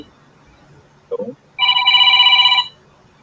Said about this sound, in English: I don't know whose phone is ringing.